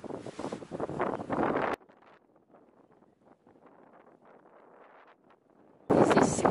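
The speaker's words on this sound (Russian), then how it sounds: "Очень сильные ветра." Loud gusty wind off the coast at Morecambe, England, buffets the microphone at the start and again at the end, with a quieter stretch of low rumbling ambience in between.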